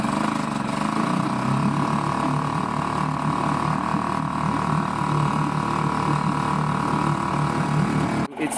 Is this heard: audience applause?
no